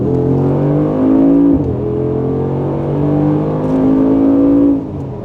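A Mercedes-Benz G63 AMG accelerates hard, its engine note climbing loud and close, easing briefly, then surging again in a second rising pull before dropping off, with no talking.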